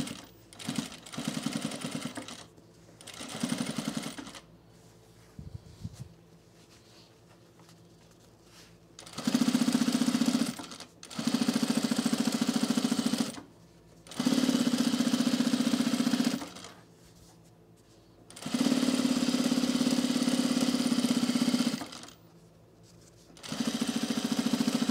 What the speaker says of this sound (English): All right, so let's top stitch this.